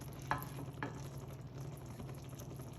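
Caramel stirred in a hot iron skillet: a faint, steady sizzle and bubbling with two soft knocks of the utensil early on, then continuous quiet simmering.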